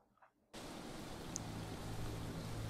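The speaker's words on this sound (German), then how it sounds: "Es regnet." Rain in the video game Whispering Willows starts suddenly after a quiet moment and becomes a steady, dense hiss, with faint low rumble underneath.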